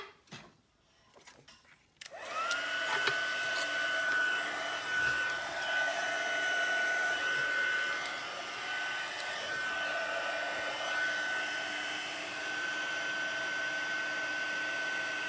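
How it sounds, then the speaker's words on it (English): A heat gun melting embossing powder on a stamped card blows a loud, steady whir with a high whine, starting abruptly after some faint handling noises and running on continuously. "Bring in our heat gun."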